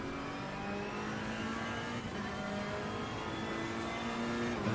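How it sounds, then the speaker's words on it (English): Ferrari race car in the Assetto Corsa Competizione racing game at the Hungaroring circuit. Its engine hums quietly and steadily as it slowly climbs in revs, with no voices. "the Ferrari doesn't produce the nicest of sounds in the world"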